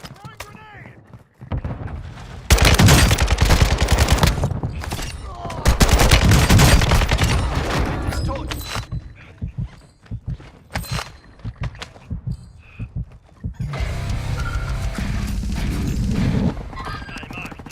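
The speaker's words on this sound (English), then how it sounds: "Friendly mortar strike inbound." Mortar strike explosions in Call of Duty Resurgence: loud, sustained bursts of booming blasts and gunfire that come in waves and then fade, with brief radio-style voice callouts between them.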